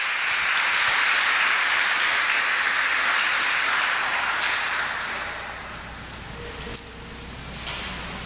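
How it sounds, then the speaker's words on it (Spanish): Loud, dense applause fills a church congregation, sustained at full strength for several seconds and then slowly thinning and tapering toward the end. "Dele el aplauso fuerte al Rey."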